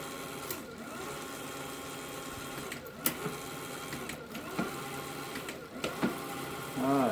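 A BBSHD electric bike motor kit fitted to a Siskiu D8 running on a low assist level, a steady mechanical whine and hum with occasional clicks and bumps, fairly close.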